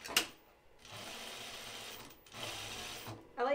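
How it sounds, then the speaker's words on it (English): A sewing machine stitches fabric for a caftan pocket in two steady runs separated by a short pause. The whirring is fairly quiet and close, with small mechanical clicks at the start and end. "I'm going to sew it together"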